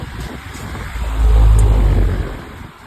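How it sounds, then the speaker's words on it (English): A Honda Civic EM2 engine, recently repaired, runs with a low rumble that swells into a loud, deep rev before easing back toward idle, heard up close with no talk. "So the car starts up and runs now."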